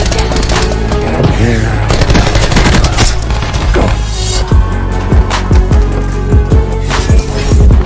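An SKG Mk2 gun with stock, fast mags, long barrel and high caliber fires in a video game, loud rapid bursts of gunfire with sharp repeated shots and a few heavier booms, dense and close throughout.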